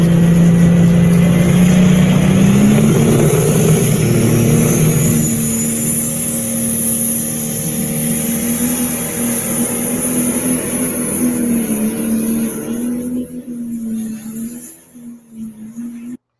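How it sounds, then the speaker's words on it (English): A pulling tractor's large engine roars steadily at close range, its pitch climbing then holding a strong drone before tapering off near the end. "this is Wildman's tractor out of Edgerton, Wisconsin"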